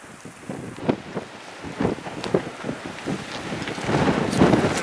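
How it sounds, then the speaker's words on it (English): Wind gusts buffet the microphone in irregular thumps, a rough outdoor rumble on a mule deer hunt that swells louder toward the end. "It's windy, you can't even hold it steady."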